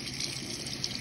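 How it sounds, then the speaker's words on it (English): Dialysis tubing is rinsed under a running tap in a diffusion lab, with a steady close rush of water that stays even throughout and has no speech over it. "Okay, so I'm gonna rinse it off."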